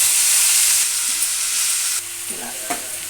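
Coriander frying in a little oil in a pan for Telugu mint-coriander chutney, giving a steady close hiss and sizzle with light stirring, the sizzle dipping partway through.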